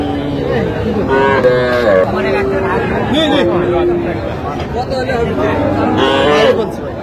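Young bull calves low and moo at a busy livestock market near Dhaka, drawn-out calls rising through a crowded din of people talking and bargaining nearby.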